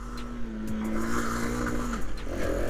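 A 1972 Honda CT90 motorcycle runs while being ridden, its small engine giving a steady buzzing hum that holds a pitch before dropping, with wind rush and bumps over the top, close to the rider.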